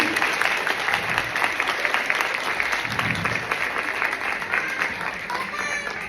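Parents in the audience at a kindergarten end-of-year show applaud steadily for about six seconds, a dense, even clapping that fills the whole clip with no speech over it.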